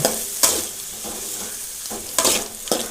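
Onions sizzle steadily in a hot pan, with a few sharp scrapes of a spoon stirring against the metal.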